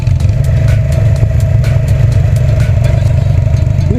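A diesel Bullet engine powering a makeshift jugaad vehicle runs steadily up close, a loud, low, chugging idle with a fast, even thump and metallic rattle throughout, no voices.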